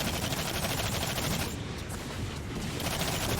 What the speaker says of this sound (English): It's a turret fight.